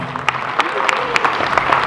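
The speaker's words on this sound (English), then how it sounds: "Let's give them a huge round of applause" Wedding guests applaud after a couple's speech. Close, steady clapping from a room of people gives a dense patter with a few sharper claps standing out, lasting about two seconds.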